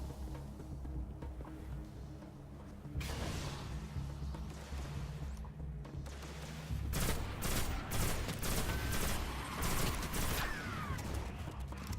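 Rapid gunfire bursts and weapon blasts in the Destiny video game, loud and continuous, sharper and denser volleys in the second half with whooshing effects, no talk.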